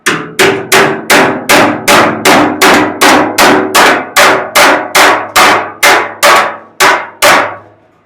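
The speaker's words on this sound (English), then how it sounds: "And I get my little bodywork hammer." A small bodywork hammer strikes the fender of a 1969 Camaro in a steady series of about twenty loud, ringing metallic blows, evenly spaced and close, with no voices.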